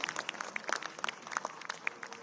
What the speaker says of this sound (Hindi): जोरदार तालियां बजती रहें, क्योंकि जब तालियां बढ़ती हैं तो पुरस्कार का मूल्य बढ़ जाता है